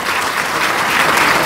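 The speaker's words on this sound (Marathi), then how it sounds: "टाळ्या वाजवा" Dense, steady applause from a crowd of students at a felicitation ceremony for successful twelfth-grade board exam students, loud and continuous throughout with no pauses.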